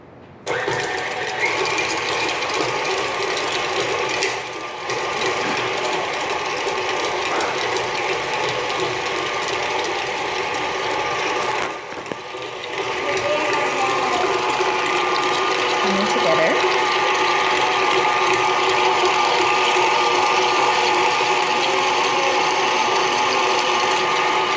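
An electric mixer churns homemade body butter with a continuous mechanical whir and rattle that stays loud and steady throughout, rising slightly later on, with a voice speaking over it.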